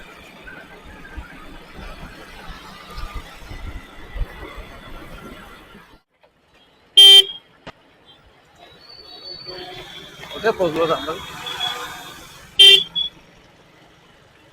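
Stuck in a traffic jam on the Thane to Vadpe road under widening work, two sharp, loud car horn blasts ring out several seconds apart over low vehicle rumble, with people talking nearby.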